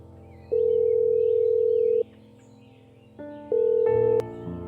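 A telephone rings out while a woman calls the family priest. Two long, loud, steady ringback tones sound with a pause between them, then short tone bursts and a click as the call connects.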